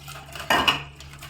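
Dishes, pots and cutlery being washed in a home kitchen, with a short burst of clattering metal and a bright clink, heard close over a steady low hum.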